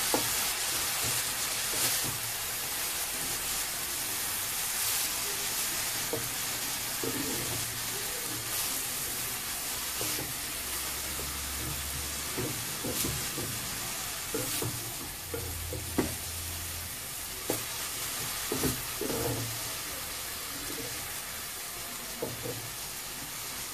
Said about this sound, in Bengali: শাকগুলো ঢেলে ভালো করে নেড়ে দিতে হবে।